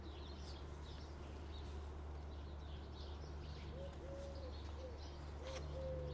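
Birds call outdoors, with a few short, clear whistled or cooing notes in the second half, set against a steady background hum and rustle.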